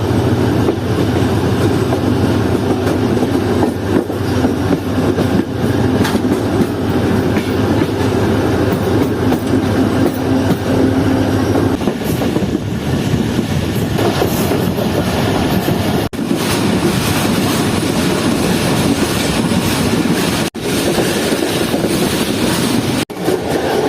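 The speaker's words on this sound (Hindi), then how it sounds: "ट्रेन इस वक्त अप्रोच कर रही है रंग पठानी रेलवे स्टेशन पर।" Train rolling along railway tracks on approach to a station in Pakistan, a steady loud rumble with rail clatter and wind buffeting, continuous throughout with no talk.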